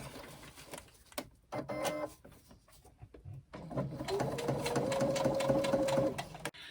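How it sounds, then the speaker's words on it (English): A sewing machine stitches a short row across fabric for a crossbody bag, starting in brief bursts then settling into a steady close whirring run before stopping. "run a little row of stitching across it"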